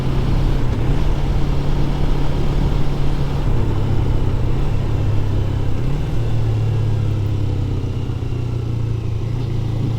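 Steady motorcycle engine drone while riding, with a constant low rumble and a pitch step near one and six seconds as gears change, loud and continuous with no talking.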